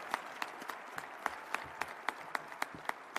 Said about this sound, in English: please give a round of applause for the Abraham paper and for Joshua's life